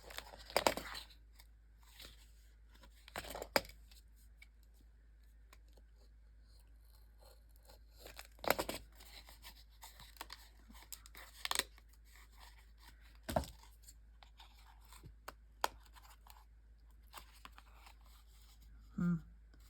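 Scissors cutting paper pages for a handmade mini album, a few sharp, separate snips and crinkles spaced apart over quiet background, close and faint, with a voice speaking now and then.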